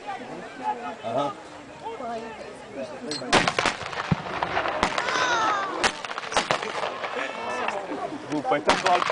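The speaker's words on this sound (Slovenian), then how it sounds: "Slepi naboj, dober pokaj" Sharp blank cartridge gunshots crack out several times outdoors, loud and close, with people talking in the background before and between the reports.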